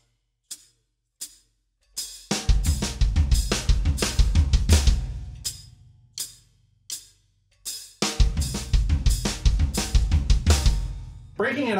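A drum kit plays a phrase, first a few sparse hits, then dense bursts of kick, snare and cymbal strokes in rapid rhythmic groups, loud and close, with no talk.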